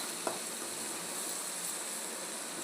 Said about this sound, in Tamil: தக்காளி சேர்த்து நல்லா வதக்கிடலாம்